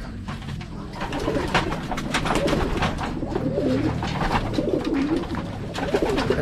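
Several young racing pigeons coo close by in a loft, overlapping soft rolling calls repeating steadily over a low background hum.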